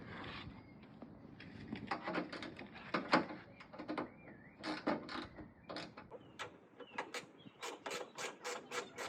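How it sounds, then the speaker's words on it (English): 10mm wrench working bolts off a Toyota Tacoma mud flap, a close series of quick metallic ratcheting clicks and rattles in irregular bursts, with light clanks between. "you're going to start by taking off all the bolts here"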